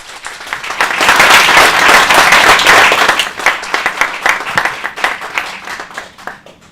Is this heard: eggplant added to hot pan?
no